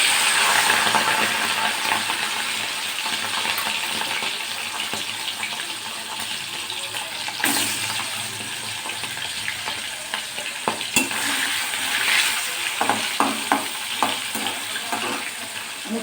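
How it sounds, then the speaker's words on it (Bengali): Prawns fry in hot white oil in a wok, giving a steady close sizzle with stirring scrapes and occasional crackles throughout, no talking. "এবার আমি চিংড়ি মাছগুলো ভেজে নেব।"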